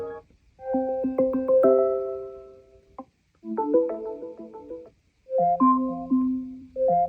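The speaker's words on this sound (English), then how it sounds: "You can change the alarm tone." A bright electronic alarm chime from an Amazon Echo Spot (2024) smart speaker plays three separate melodic phrases of bell-like tones, clear and close, with short silences between them.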